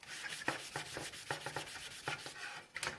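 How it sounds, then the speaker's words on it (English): Rusty old metal trim scrubbed with the rough side of a brush or pad, giving quick repeated scratchy rubbing strokes in an uneven rhythm, close and fairly soft, with no voices. "Now some spots are going to need more brushing because there's like rust that is embedded a little bit into the metal."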